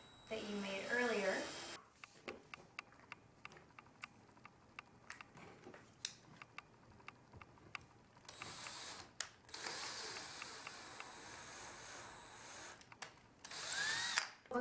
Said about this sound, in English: Get the drill bit set and just very slowly drill on your X's that you made earlier.